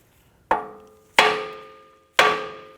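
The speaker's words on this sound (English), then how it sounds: "We're going to use a hammer and we're going to strike the knuckle here to release the tie rod end." A hammer strikes the steering knuckle of a 2004-2008 Acura TL to release the tie rod end, giving three sharp metallic clangs spaced under a second apart, each ringing and decaying, with no talking.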